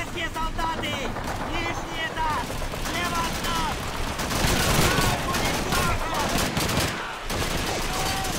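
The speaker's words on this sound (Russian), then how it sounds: "Стреляй в окно! Огонь на подавление!" Rapid bursts of gunfire and suppressive fire rattle through the video game Call of Duty 2, dense overlapping shots and explosions with shouted voices mixed in.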